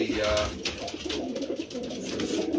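Racing pigeons coo in a loft, with soft, throaty, repeated coos close by over a murmur of background noise.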